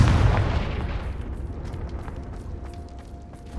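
A Confringo fire explosion spell from Hogwarts Legacy bursts with a loud, heavy boom at the start, then a rumbling fiery tail slowly fades under a soft background tone.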